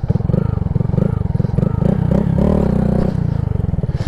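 Honda Grom motorcycle revving hard during a wheelie attempt, a loud close engine pulsing rapidly with rising and falling revs and some clatter, running continuously throughout.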